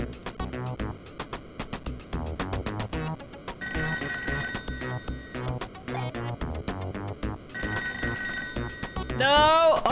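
A telephone rings repeatedly in the Toejam & Earl video game, its electronic trills sounding in rapid bursts over busy, bouncy game music, with a rising warble at the end.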